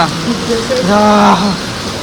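Rain falls steadily on a hilltop pilgrimage site with natural hot-water springs, a constant close hiss as a voice speaks briefly over it.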